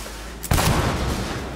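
A single sniper rifle shot in Cyberpunk 2077 bursts out sharply mid-clip, a loud crack followed by a broad rumbling decay that fills the rest of the moment, with no voices.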